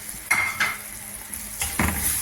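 Ground chili, coriander, fenugreek, pepper and cumin powder frying in a pan while being stirred: soft sizzling broken by a few scraping strokes of a spoon against the metal, close and without talk.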